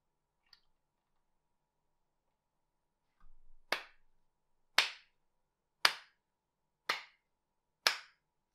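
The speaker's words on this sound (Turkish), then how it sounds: "Bunu niye alkışladım arkadaşlar?" Hand clapping in a quiet room: after a couple of faint clicks, five sharp, loud claps ring out alone in slow, even succession, each about a second apart.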